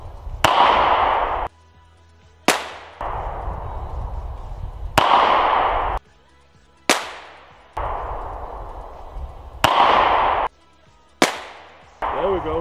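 Smith & Wesson handgun fired at a target: about six loud, sharp reports spaced a second or two apart, each with a ringing decay, and quiet gaps between them.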